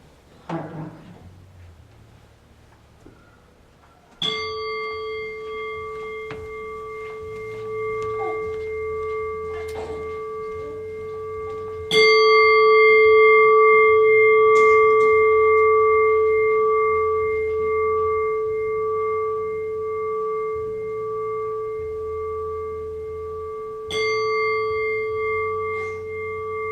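A bell is struck three times, each strike ringing out with a clear sustained tone that decays slowly over several seconds, with faint low rumbling and small noises between strikes.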